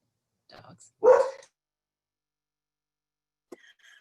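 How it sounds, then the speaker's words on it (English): Dogs give a short burst of barking, one loud bark-like yelp after a quieter lead-in, followed by a faint brief noise, in an otherwise quiet room. "dogs."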